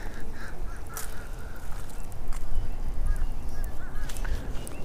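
A duck near a pond gives a series of short honking calls, moderately close, over a steady outdoor rushing background noise with no talk.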